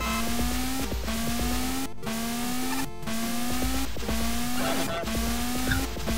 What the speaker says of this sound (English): I like the sound of him sliding.